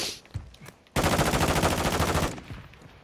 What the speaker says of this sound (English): Oh, like a shotgun.